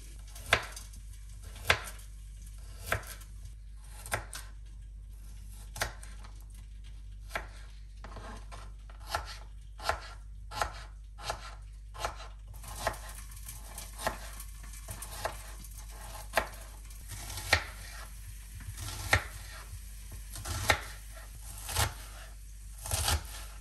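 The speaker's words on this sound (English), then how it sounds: "let's chop garlic, carrot and onion" Garlic, carrot and onion being chopped with a knife on a board for a Toulouse sausage casserole, with steady knife strikes close by in bursts, over a quiet low background hum.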